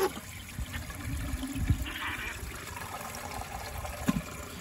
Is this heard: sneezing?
no